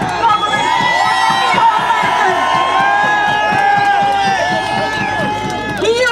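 A large crowd at a rally outside Custom House in Dublin cheers and shouts continuously, with whoops rising over a dense, steady roar that holds close and loud throughout.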